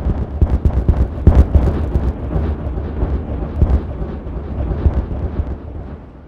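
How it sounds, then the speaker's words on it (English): Dynamite detonation in the Timberborn video game: a burst of loud, booming blasts with sharp cracks early on, settling into a sustained low rumble that fades gradually. "we've got a layer of dynamite to kick things off. Let's detonate this out first of all."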